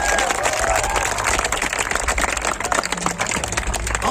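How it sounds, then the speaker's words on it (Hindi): An audience at a Hindi poetry recital at a literary festival claps loudly and continuously, with crowd noise and faint voices mixed into the dense applause. "तो एक बार घनघोर तालियां बजाकर बताइए"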